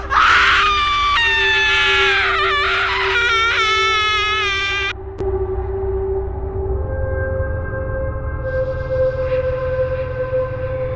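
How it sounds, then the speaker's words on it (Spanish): Horror sound effect of a child crying and a mother screaming: loud, wavering wails with sharp rising cries over the first five seconds, then a lingering eerie drone with a thin high tone. "se escuchan los llantos del niño y los gritos de su madre arrepentida"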